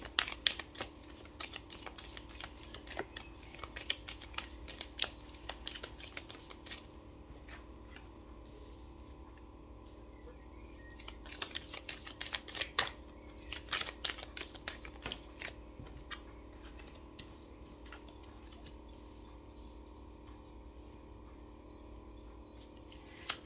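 Tarot cards are shuffled and drawn in repeated bursts of quick riffling clicks and flicks with quiet pauses between them, close and fairly soft over a faint background.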